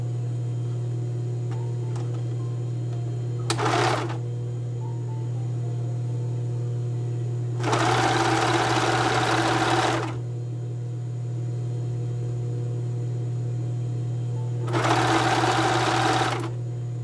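Sewing machine stitching a lace cup onto the front of men's underwear, running in three separate bursts, the longest about two seconds, over a steady low hum, close and fairly quiet.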